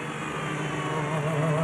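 A continuous engine drone from an Audi twin-turbo 5.5-liter all-aluminum diesel race car at Le Mans 2006, steady and fairly loud, with a slowly rising pitch as it runs.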